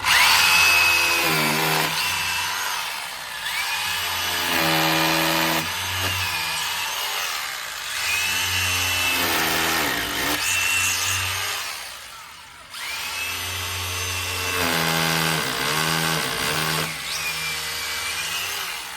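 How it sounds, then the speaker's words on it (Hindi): A power drill boring holes for fasteners, running in repeated bursts of steady whine with short pauses between, loud and close with no talking. "तो यहाँ पे ड्रिल कर लिए।"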